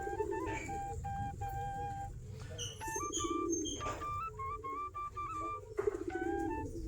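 Giribaz pigeons feeding near their coop, with soft repeated cooing and several clear bird calls and chirps over a faint background rumble, heard at close range with no speech.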